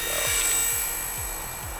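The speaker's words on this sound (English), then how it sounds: "That is a good looking helicopter." An Ares fp75 RC helicopter whines steadily in flight, a high, thin electric motor and rotor tone with a repeating low swish from the blades, fairly close and heard alone.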